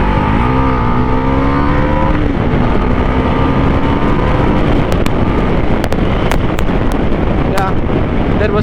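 Close, loud Bajaj NS 400 motorcycle pulled hard in second gear on a lightly sandy road, engine pitch climbing steadily through the revs with wind rushing across the microphone.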